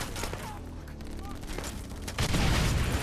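Explosions and gunfire fill a scene in the video game Wanted: Weapons of Fate, a dense crackling barrage that ends in a heavier booming blast. A voice talks faintly over the mix.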